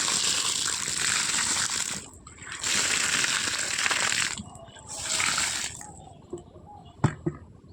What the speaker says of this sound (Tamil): தற்போது தண்ணீர் தெளிச்சுக்கலாம் நண்பர்கள்